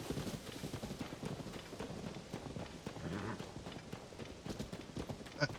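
Horse hooves clip-clop at a steady trot across open ground in the video game Zelda: Tears of the Kingdom, a continuous rhythmic patter of fairly close footfalls with some soft ambient texture and no talking.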